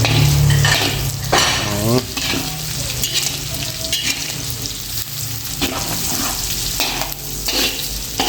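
Garlic and onion sauté in hot oil with a loud, crackling sizzle and spattering, broken by stirring scrapes and occasional utensil clatter.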